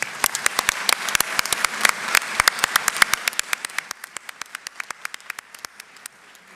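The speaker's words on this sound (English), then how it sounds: "Let's recognize them with a round of applause." Applause from a modest crowd, sharp individual claps dense at first and thinning toward the end, fairly close, with no talking.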